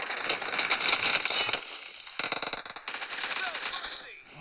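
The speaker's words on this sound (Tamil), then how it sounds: "எங்க பார்த்தாலும் ஒரே துப்பாக்கி சூடா இருக்கு" Rapid automatic gunfire in the BGMI team deathmatch mobile game, loud bursts of dense crackling shots that stop briefly and then resume, with a voice talking underneath.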